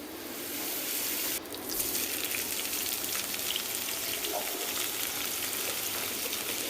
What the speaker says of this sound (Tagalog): ilagay ko na yung sauce